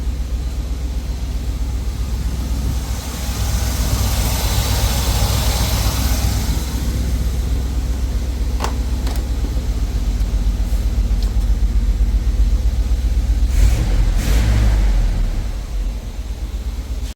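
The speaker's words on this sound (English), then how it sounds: "Motor's running super clean, super nice" A 1980 Chevrolet Scottsdale truck, parked for 26 years, runs with a steady low engine drone throughout, loud and close, with a few brief clanks partway through and no talking.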